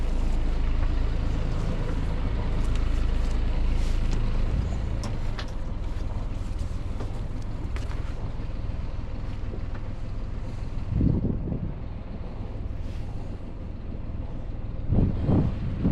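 Motor boat pulling away from its mooring toward a lock by a hydraulic lifting bridge, a steady low engine rumble under gusty wind buffeting the microphone, with a couple of brief louder surges near the end.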